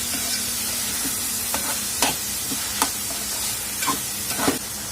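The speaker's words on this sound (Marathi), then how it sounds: "दोडका घातल्यानंतर आपल्याला बारीक चिरलेले टोमॅटो घालून घ्यायचे आहेत आणि त्यालाही छान असं परतून घेणार आहोत" Ridge gourd and finely chopped tomatoes sauté in hot oil, a constant close sizzle punctuated by irregular scraping strokes of a spatula against the pan.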